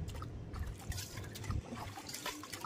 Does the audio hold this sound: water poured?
yes